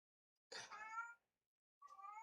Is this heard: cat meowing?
yes